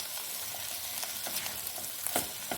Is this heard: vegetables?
yes